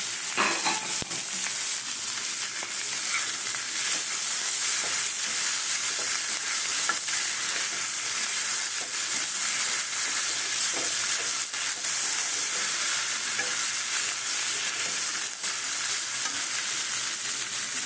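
Meat cooked down with spices sizzles loudly and steadily in a pan for a Mughlai paratha filling, with a continuous hiss, a few scattered pops and occasional faint stirring, and no one speaking.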